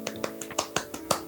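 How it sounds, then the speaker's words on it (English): A quiet golf clap during a photo shoot at a train depot: about seven light, separate hand claps in an uneven rhythm, close and soft, with no talking. "Golf clap."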